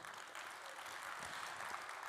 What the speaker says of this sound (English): Can we please get a round of applause for the amazing work that Drift v3 has pushed to the market?